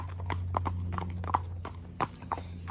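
A horse out hacking walks along, its hooves clip-clopping in a steady, moderately close rhythm over a low constant background hum.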